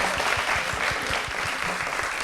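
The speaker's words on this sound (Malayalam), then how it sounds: "Clap for them." Audience applause for two singers performing on stage at a music show, steady dense clapping throughout, fairly loud and continuous with no voices above it.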